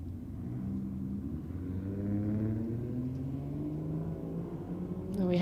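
Drag racing cars, a BMW and a Falcon, revving at Sydney Dragway, with a deep engine rumble rising steadily in pitch over several seconds before a sharp burst at the end.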